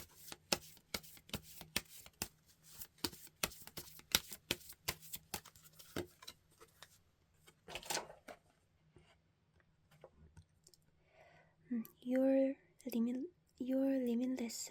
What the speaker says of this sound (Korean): 우리 2번 분들을 위한 좋은 카드 한번 뽑아보도록 할게요